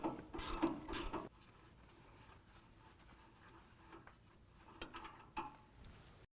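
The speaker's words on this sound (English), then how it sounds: "Next, we're going to use an 18mm to disconnect our sway bar end link from our sway bar." An 18mm wrench clicks in a quick ratcheting burst while loosening the sway bar end link nut on a 2017 Ford Raptor, followed by a few faint scattered clicks and quiet handling noise.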